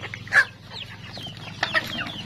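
Rhode Island and Buff Orpington cross chickens cluck at feeding time on a farm, with short sharp calls close by over a low steady background hum.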